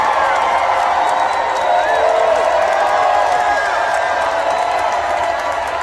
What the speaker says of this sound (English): just listen to this crowd in Wisconsin that is fired up for Kamala Harris